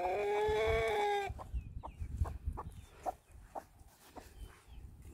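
Araucana hens clucking near their feeder, with a loud burst of rooster-like calls at first and then scattered short clucks and pecking sounds, close and moderately quiet.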